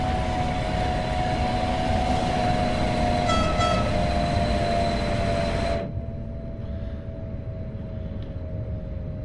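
Stadler Flirt train on the Luzern–Sursee route in Train Sim World 6 runs with a steady rumbling drone and a faint tonal whine, a brief high clatter partway through, then the sound drops abruptly to a quieter interior hum.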